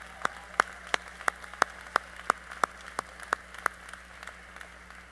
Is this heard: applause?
yes